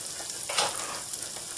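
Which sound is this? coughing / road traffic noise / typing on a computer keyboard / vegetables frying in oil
vegetables frying in oil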